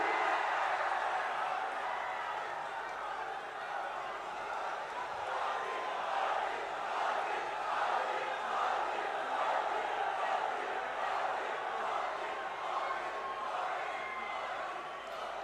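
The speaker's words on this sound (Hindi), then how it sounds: "इनका जोरदार तालियों के साथ हम सब स्वागत करेंगे" A large rally crowd in Chandrapur welcomes Narendra Modi with sustained, dense applause and a diffuse roar that holds steady and fairly distant throughout.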